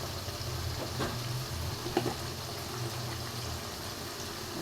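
Ginger paste, garlic and green chillies fry in a pan with a steady, close sizzle throughout, broken by a couple of light stirring scrapes near the middle.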